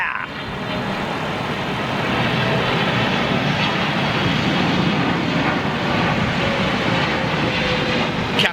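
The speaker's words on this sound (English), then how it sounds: "What's that in the hole? TAP 330, is it?" An airliner rumbles at London Heathrow Airport, a broad steady roar that swells gradually and holds at fairly close range, with no clear talk over it.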